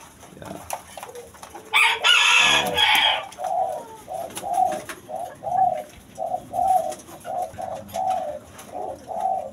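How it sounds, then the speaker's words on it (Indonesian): Ringneck dove and spotted dove hybrid cooing in a steady rhythm of about a dozen short, rounded calls, fairly close, after a brief louder burst of other bird noise near the start. "peranakan antara puter dengan burung tekukurnya"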